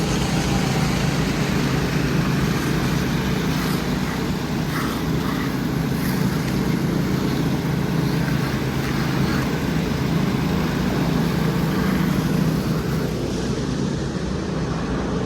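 A concrete truck's engine runs during a concrete floor pour for a new shop building, a steady, loud diesel rumble that holds without a break.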